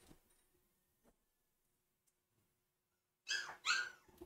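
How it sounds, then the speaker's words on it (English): A dog whimpers in two short, high whines near the end, after quiet faint stirrings, as it wants out of the room. "hold on, the dog wants to get out"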